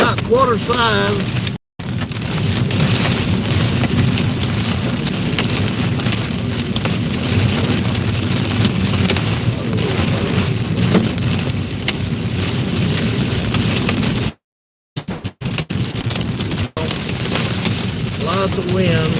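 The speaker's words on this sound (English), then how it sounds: "the hail's about quarter size." Quarter-size hail and rain batter a storm-chasing vehicle on an Indiana highway as strong wind blows, a continuous loud rushing roar with a few brief dropouts and a voice speaking briefly.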